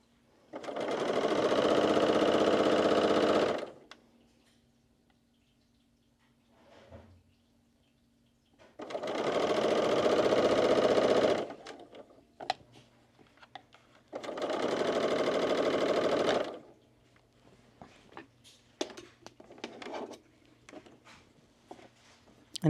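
Domestic sewing machine stitching a neckband onto swimwear fabric, running in three steady bursts of a few seconds each with quiet handling noises between them.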